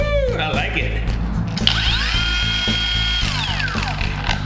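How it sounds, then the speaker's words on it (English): A cordless Restorer power tool whines loudly and steadily, its motor pitch sliding up and down as it revs, close by and alone without talk. "run the Restorer tool cordless."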